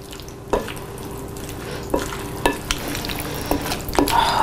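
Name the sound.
stirring tomato salad with balsamic vinegar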